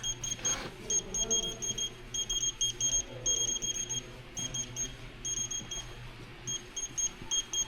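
A handheld scanner beeps repeatedly in short, bright bursts while beehives are being scanned indoors during wintering, with a steady low hum running underneath.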